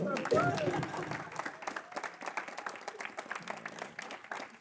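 Applause from a studio audience on a French talk show, a dense wash of clapping that starts loud and stays steady, with voices speaking over it throughout.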